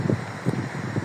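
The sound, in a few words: wind blowing on microphone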